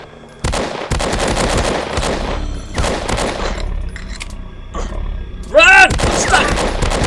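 Bursts of rapid automatic gunfire in a subway horror video game, loud and repeated across several seconds with brief gaps, one sharper burst near the end.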